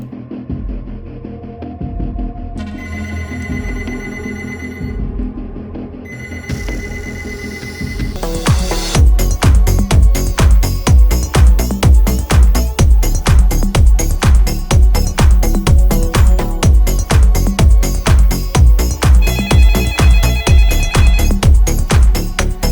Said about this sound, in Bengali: দীপজাল ভাই ফোন করেছে